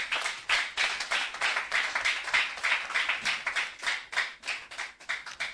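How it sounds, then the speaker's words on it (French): A church congregation claps in thanks to God, a dense, steady round of applause with rhythmic surges, loud and close, no voices over it. "On acclame pour dire merci à Dieu."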